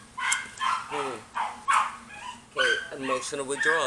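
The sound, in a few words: dog barking outdoors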